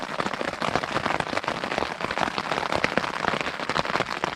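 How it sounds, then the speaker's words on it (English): Heavy rain pounds steadily on a camping tent with plenty of mesh, a dense, constant close-up patter with scattered louder drops and no voices. "The rain is definitely getting a lot heavier now, a lot more constant."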